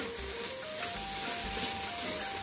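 Okra (vendakkai) frying in oil in an open pan, a soft, continuous sizzle and crackle with faint background tones, quiet and steady throughout without talk.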